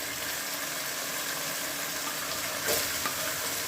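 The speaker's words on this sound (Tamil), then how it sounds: "இஞ்சி பூண்டு பேஸ்ட் வதங்கினதுக்கப்புறமா இதில் ஆனியன் ஆட் பண்ணுறோம்." Onion frying with ginger garlic paste in a pan, a dense close steady sizzle with a brief stir or clink near the end, no talking.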